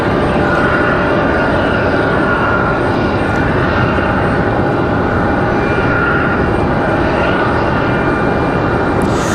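An American Airlines Boeing 737-800 jet departs Raleigh-Durham, a loud continuous engine roar with a steady whine held throughout, close and unbroken.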